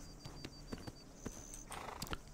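Horse hooves clop at a walking pace in Black Desert Online, a few distinct, fairly close thuds spaced unevenly over soft ambient game sound.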